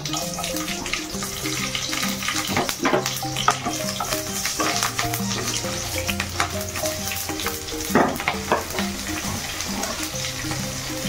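Panch phoron spices and green chilli fry in oil for Odia muga dali, giving a continuous crackling sizzle punctuated by stirring scrapes and clinks, with a water-like rushing texture beneath and no speech.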